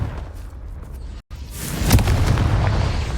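A Confringo blasting spell goes off in the Hogwarts Legacy game, a deep booming explosion after a brief silent gap, with a rumbling low tail that fades slowly.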